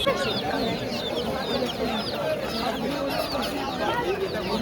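Several chickens, including black chickens, cluck and chatter over a busy market background, their calls overlapping continuously at close range.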